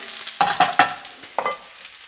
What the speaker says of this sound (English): All the courgettes in. I'm not overcrowding my pan.